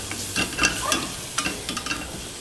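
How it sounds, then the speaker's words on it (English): Chili powder and vegetables sauté in a hot pan while being stirred for vegan black bean tacos, giving a close, steady sizzle broken by short scraping and stirring strokes. "Let that saute for about a minute while the flavors begin to meld"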